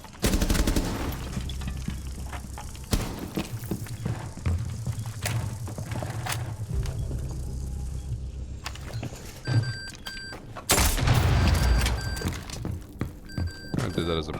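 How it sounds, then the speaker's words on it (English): Gunfire in an online shooter game aimed at planted C4, with rapid loud bursts and single shots, clunks and rattles over a steady game background, then a sharp louder burst near the end. "I guess I'll try to shoot the C4 from below."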